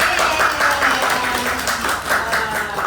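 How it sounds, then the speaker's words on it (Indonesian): A crowd claps continuously, a dense, even patter of applause filling the whole moment. "Tepuk tangan."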